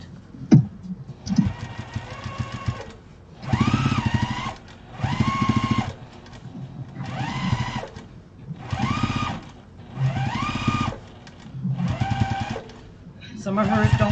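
A sewing machine quilts a fabric bowl in short repeated bursts, each run a few seconds of steady whirring stitching separated by brief pauses, close and clear, with a person talking between and over the runs.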